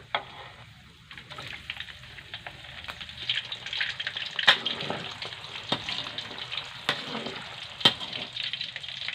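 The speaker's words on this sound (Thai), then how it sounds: "เราก็ตั้งกระทะใส่น้ำมัน นะคะ แล้วก็ใส่ไปทอดเลยจ้ะ" Stuffed eggs bubble and sizzle steadily as they deep-fry in hot oil, with scattered crackles and pops, plus occasional clinks of a utensil.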